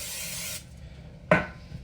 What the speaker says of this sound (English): little spray olive oil.